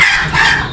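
A hen being held in someone's hands lets out a short, loud, close squawking cluck, a single strained call lasting under a second.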